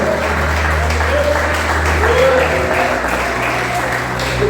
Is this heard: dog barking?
no